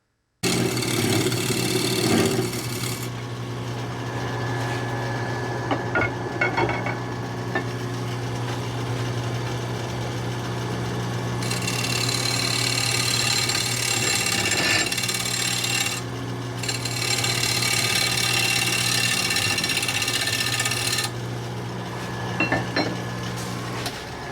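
A lathe motor hums steadily while sandpaper rasps against a spinning sissoo wood bowl, the gritty hiss swelling and easing in long stretches; no talking.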